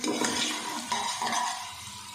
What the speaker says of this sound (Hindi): प्याज को अच्छे से हमने सौते कर लेना है